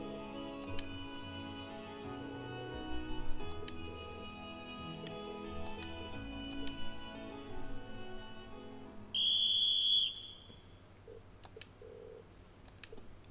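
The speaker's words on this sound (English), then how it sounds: "Blowing a whistle, you see." A whistle blows in the video game Trails of Cold Steel. One short, shrill blast cuts in partway through, over ticking game sounds and a soft musical background.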